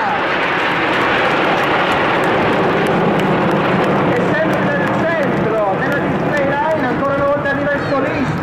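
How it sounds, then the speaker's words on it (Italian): Frecce Tricolori MB-339 jets roar overhead in an aerobatic display above a seaside promenade in Reggio Calabria, a loud sustained whoosh with shifting pitch as an aircraft climbs, while people talk underneath. "Che va su, dritto in alto nel cielo, fino a quando la forza del motore del suo MD339 non viene vinta dalla forza di gravità."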